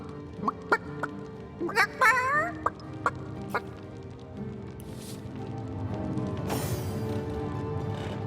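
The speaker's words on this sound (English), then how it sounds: "Don't let that rooster escape!" Rooster clucking in a video game, several sharp clucks and a warbling squawk near the start over a low game ambience, which thickens into a steady rumble later.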